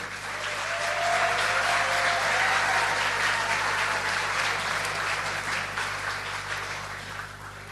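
Sustained audience applause welcoming Australian Minister Tony Burke at an Australian Syrian Business Network event, a steady, full-room clapping that swells then slowly fades.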